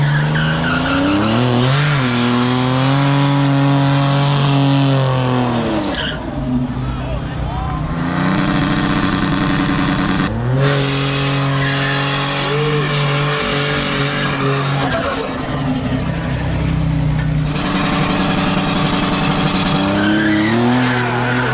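Heavily tuned Cadillac at a drag-racing event, a loud, close engine roaring and revving in long sustained pulls with shifting pitch and tire squeal, sometimes under people talking.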